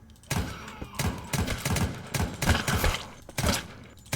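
AK rifle fire in the zombie game Deathly Stillness: several loud, sharp bursts of shots in quick irregular succession, each with a thudding low end, filling the short stretch without talk.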